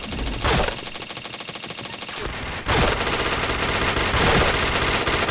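Rapid automatic gunfire from a shooting video game crackles in dense bursts, breaks off briefly, then resumes just as loud and sustained to the end.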